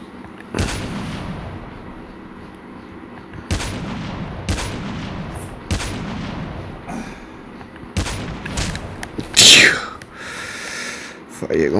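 Sniper rifle shots ring out in a video game: several sharp, separate cracks spaced a second or two apart over a murmur of speech, with a brighter burst near the end.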